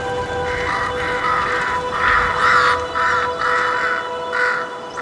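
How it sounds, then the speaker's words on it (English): Several crows caw in a string of loud, harsh calls spaced roughly half a second to a second apart, close by over a soft background hum. "and the cawing of crows."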